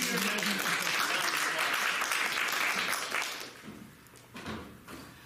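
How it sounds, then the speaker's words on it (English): A theater audience applauds a junior adventurer called up to help at a live children's adventure show, the clapping dense and loud for about three seconds before thinning into scattered claps and faint voices. "Please give this junior adventurer a round"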